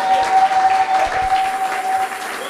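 Church congregation clapping together in steady, dense applause that fills the space, loud and continuous throughout, with a faint sustained tone running beneath it.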